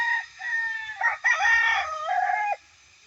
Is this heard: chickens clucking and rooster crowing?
yes